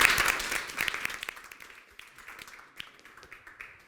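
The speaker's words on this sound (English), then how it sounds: "How about a big round of applause for Andrew?" Applause from a live audience at an improv show right after a performer is thanked, strongest at the start and then thinning into scattered, fading claps.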